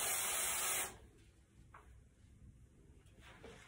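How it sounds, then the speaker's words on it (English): Hairspray sprayed around a traditional ballet bun in one close, steady hiss lasting under a second, then quiet rustling from handling the hair. "Just spray it all around the head and take your hand and slick it down."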